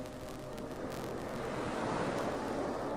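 Soft, continuous ocean surf washes in a steady, faint roar with a gentle swell in the middle, with no other sounds over it.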